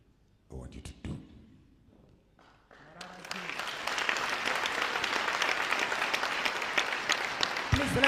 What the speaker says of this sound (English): a very, very, very big round of applause for Bishop Maponga